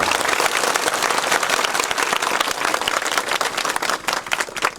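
An audience gives loud, dense applause that carries on without a break: many hands clapping together with some crowd noise underneath.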